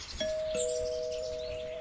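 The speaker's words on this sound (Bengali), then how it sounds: "ঠিক তখনই কলিং বেলটা জোরে বেজে উঠল।" A doorbell rings a clear two-tone ding-dong, the second tone ringing out and fading slowly in a quiet room.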